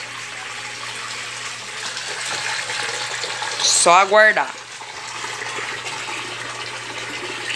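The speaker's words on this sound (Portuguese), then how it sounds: "Aí ela vai drenar um pouco de água e daqui a pouco ela começa a bater." A Brastemp Ative BWL11 washing machine drains water with a steady rushing hiss, broken midway by a short rising electronic chime, and a voice speaks briefly.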